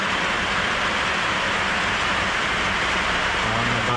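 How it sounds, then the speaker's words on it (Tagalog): Heavy rain pours steadily in a dense, unbroken roar, loud and close, with a faint low tone near the end and no talk. "Yan, malakas na po yung ulan."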